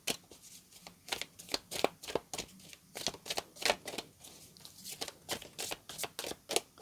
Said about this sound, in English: I've been shuffling for a couple of minutes now